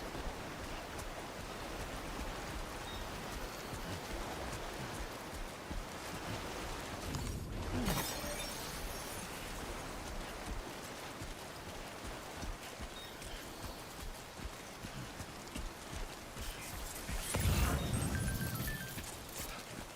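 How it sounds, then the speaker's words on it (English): Rain falls in Death Stranding 2: On The Beach as a steady, hissing patter of moderate loudness, broken by a soft thump and a louder swelling rush of noise near the end. "Damn, rain's back."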